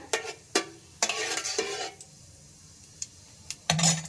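Nigella seeds go into hot mustard oil in a kadai, giving a faint sizzle under several sharp metal spoon clinks and scrapes against the pan, with a brief quiet gap in the middle.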